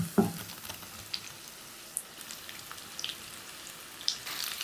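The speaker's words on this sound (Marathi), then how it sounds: "आता यामध्ये उभी चिरलेली ढोबळी मिरची घालायची." Sliced capsicum frying with onions in a pan gives a soft, steady sizzle, with a brief louder burst at the start as the pieces go in and a few light clicks later.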